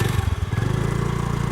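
A scooter engine pulls away with a steady pulsing putter, close and fairly loud, its rhythmic low chug holding even throughout with no talking.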